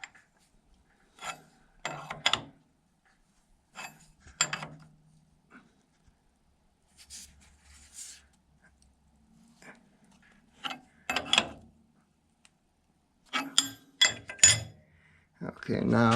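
A wrench rasps and clicks in scattered short strokes against an antique 1 HP IHC Mogul engine during its rebuild, close and intermittent with quiet gaps, and a voice is heard briefly.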